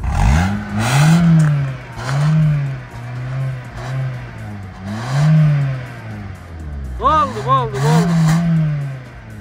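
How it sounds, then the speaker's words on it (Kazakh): A Lada Granta car engine revs up and down repeatedly to about 3000 rpm, rising and falling in pitch, close by, with a voice speaking briefly over it. "Кичине 3000 оборотко чейин газ бериңчи."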